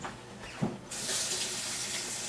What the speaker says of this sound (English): now let me give my hands a rinse.